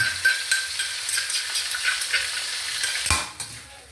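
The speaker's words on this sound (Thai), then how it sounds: "ผัดให้สุก" Pork and eggplant stir-frying in a pan, a bright steady sizzle under repeated scrapes and clinks of a spatula, close up and loud, with one sharper knock near the end.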